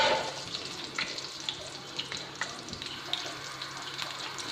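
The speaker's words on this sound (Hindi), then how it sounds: "ऑयल गर्म हो जाए तो ये पिसा हुआ ज़ीरा है।" Ground cumin hitting hot oil in a pan, with steady sizzling and crackling and a few sharp pops over a constant frying hiss, close and moderately loud, no talking.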